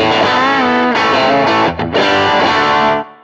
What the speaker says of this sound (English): Now, if I run our Strat into, say, an 808 overdrive, which is going to sound like this.